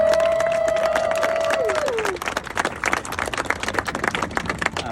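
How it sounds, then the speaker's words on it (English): Office grand opening and ribbon cutting in Utah, where a crowd gives a round of applause for a guest who stands: dense, steady clapping fills the room after a brief tonal sound at the start. "Mark, if you could stand and take a round of applause"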